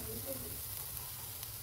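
Mustard seeds hit hot oil in a pan while amaranth stalks cook for a home-style curry, giving a steady low crackling sizzle throughout, close and fairly quiet, with no talking.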